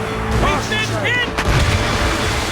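Naval cannon fire in Assassin's Creed Rogue, loud booming blasts over a dense battle din of wind and crew shouts, with a heavy report near the middle of a short burst of sea combat.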